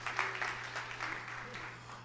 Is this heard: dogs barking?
no